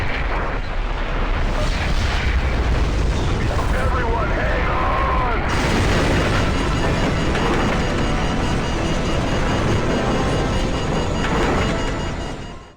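A nuclear blast in Call of Duty 4: Modern Warfare, a loud, continuous roaring rumble that fills the whole stretch, with a rushing, debris-laden wash swelling after a few seconds and sustained to the end.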